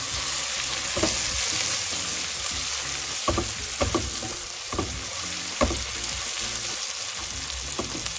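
Onions frying for a royal potato curry (shahi aloo) give a steady close sizzle, while a utensil scrapes and stirs the pan in scattered knocks throughout, with no talking.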